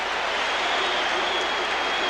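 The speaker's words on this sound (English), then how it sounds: "That drew roars from the crowd" Crowd roaring at a 1988 Syracuse college basketball game against Michigan in the Carrier Dome, a dense, steady wash of cheering and applause filling the arena from start to finish.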